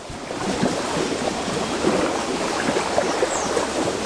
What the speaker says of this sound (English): You can probably hear the waves crashing behind me